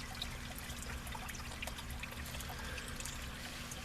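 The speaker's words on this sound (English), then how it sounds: "This water's just pouring in here." Water pours steadily into a sump pump pit in a basement with exterior waterproofing, a constant close trickling stream with no talk.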